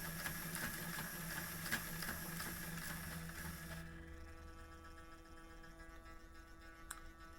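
A Bachmann or Hornby model Thomas the Tank Engine locomotive crawls slowly along good model railway track, its small electric motor giving a steady, faint hum and whir that softens partway through, with a brief click near the end.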